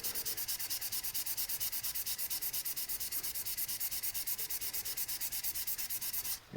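Sandpaper is rubbed along the grain of a wooden skipping-rope handle on a stopped lathe, making a fast, steady train of close, rhythmic scratching strokes with no talk, ending in a brief pause.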